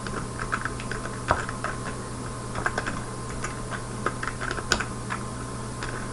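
A C program is typed on a computer keyboard, with a steady run of close, crisp key clicks in an irregular rhythm and occasional louder strikes, and no talk.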